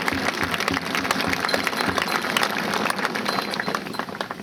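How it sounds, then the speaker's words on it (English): An audience at an evening charity gathering claps, a dense, even patter of many hands that stays steady for several seconds without any talking. "You may clap."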